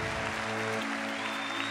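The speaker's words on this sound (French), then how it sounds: "Et vous pouvez les applaudir encore plus chaleureusement" Warm crowd applause at a Génération·s political meeting, a brief dense wash of clapping with steady tonal hum from the hall's sound system underneath.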